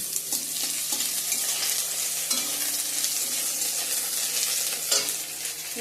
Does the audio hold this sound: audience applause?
no